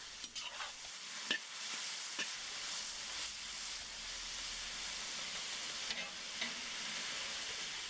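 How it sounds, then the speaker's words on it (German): Meat fries in a kazan for lagman, giving a steady, dense sizzle broken by scraping stirs and a few sharp clatters close by. "Fleisch wurde perfekt angebraten"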